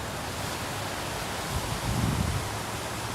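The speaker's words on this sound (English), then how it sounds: "Really windy out here today." Strong wind roars steadily outdoors, buffeting the microphone with a broad rushing noise that swells slightly toward the end.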